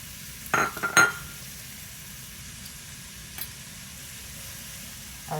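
Chopped onion, red pepper and celery sizzle softly in bacon grease in a pot, a steady low frying hiss with a couple of sharp utensil clinks near the start and one faint tap later.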